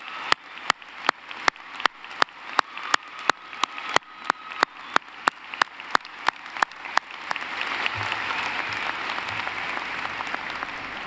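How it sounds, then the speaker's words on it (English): Audience at a UVU graduation ceremony in 2017, starting with a regular series of loud sharp claps, then broadening into a sustained wash of crowd applause that continues to the end. "Please join me in a round of applause for this impressive group."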